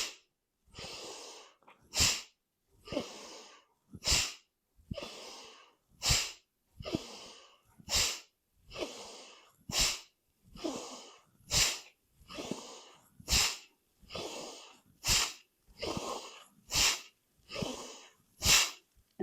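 Forceful exhalations in a yoga breathing exercise, about sixteen sharp nasal bursts at a steady pace of roughly one a second, with a short breath drawn between each, close and loud with no talking.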